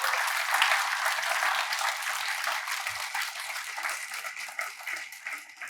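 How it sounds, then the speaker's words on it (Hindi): An audience at a live Hindi poetry recital at a university claps loudly and steadily, a dense wash of hands that slowly eases in strength over several seconds. "जोरदार तालियां आपके।"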